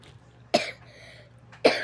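Two sharp coughs from one person close by, about a second apart, with near silence around them.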